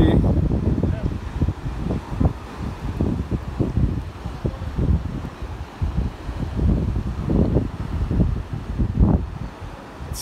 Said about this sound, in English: It's a nice wind